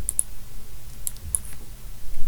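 Typing on a computer keyboard during stock data entry: a few sparse, crisp key clicks in short bursts with pauses between them, close and fairly quiet, no voices.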